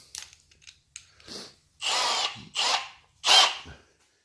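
Bordeaux Easy Chamfer tool with five cutting flutes chamfering the end of construction grade threaded rod, a few short whirring bursts of cutting, close and growing louder, no talk.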